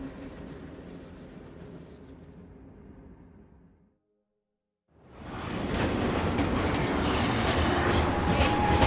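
Train rolling along in Final Fantasy 7 Remake, a steady rumbling clatter that fades to near silence, cuts out for a moment, then surges back louder and closer as a dense, continuous rush of wheels and rail noise.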